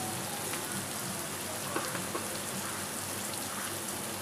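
Spices being fried down in a pan for a Bengali potato, pointed gourd and shrimp curry, giving a steady, fairly quiet sizzle that runs without a break and has no talking over it.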